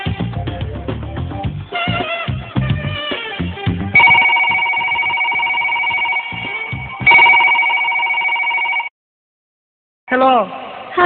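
A telephone rings repeatedly in a steady electronic ring pattern, loud and close, following a stretch of busy talk and noise, then stops abruptly before a voice answers.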